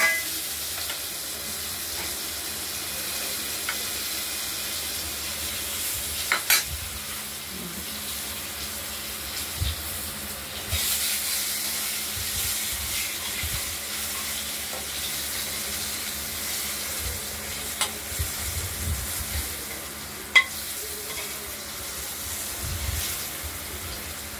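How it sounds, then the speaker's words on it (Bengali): Steady sizzle of potatoes frying with cumin and nigella seed tempering, heard close and continuous, broken by occasional clinks and stirring knocks, with no voices. "আলুগুলোকে ভাজা ভাজা করে নেব এই ফোড়নের সঙ্গে।"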